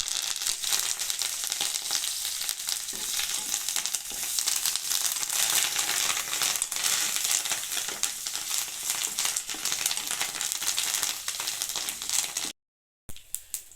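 Curry leaves dropped into hot tempering oil for a brinjal roti pachadi, a loud dense continuous sizzle and crackle close up that holds steady until it cuts off briefly near the end.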